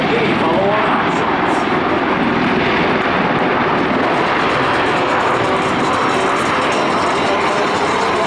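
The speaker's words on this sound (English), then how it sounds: "Another Huey and Blackhawk." UH-1 Huey and UH-60 Black Hawk helicopters fly over the Kirtland AFB airshow in Albuquerque, New Mexico. A loud, steady roar of aircraft engine noise fills the whole stretch without letting up.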